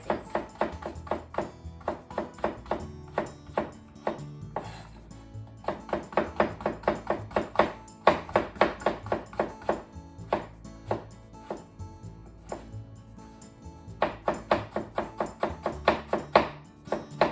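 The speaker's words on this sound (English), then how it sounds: "Make diagonal slices. Then into thin slices." A knife slices pork on a cutting board, first diagonally and then into thin strips, producing quick runs of sharp, close taps in steady rhythm with brief pauses between bursts and no talk.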